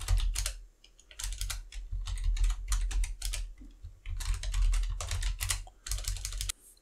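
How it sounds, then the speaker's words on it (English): Close, fast typing on a computer keyboard as a password is entered, with rapid bursts of key clicks broken by short pauses, over a low steady hum and with no speech. "type the password"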